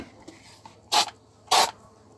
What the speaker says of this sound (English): Give it a bit of a spray around here.